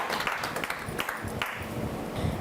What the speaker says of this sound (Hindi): तालियों से स्वागत कीजिएगा कविता